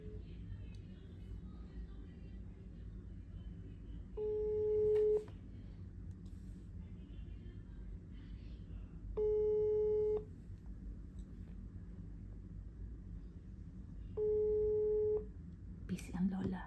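A telephone busy tone plays over a phone's loudspeaker in three separate steady beeping bursts spaced several seconds apart, above a low room hum, with no talk during the signal.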